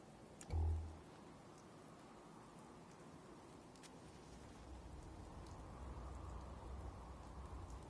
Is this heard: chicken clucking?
no